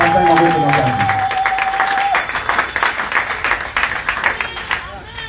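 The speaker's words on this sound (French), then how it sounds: "Est-ce qu'on peut acclamer très fort pour l'esprit?" A church congregation breaks into applause and cheering, a dense wash of clapping with voices rising through it, starting loud alongside a sustained tone that fades after two seconds, then continuing as steady crowd noise.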